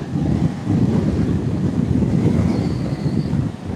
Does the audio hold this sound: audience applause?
no